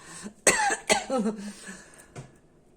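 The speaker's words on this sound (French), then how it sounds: "maintenant que j'ai arrêté de tousser" A person coughs several times in quick bursts, close and fairly loud, followed by a softer throat sound and a quiet tail.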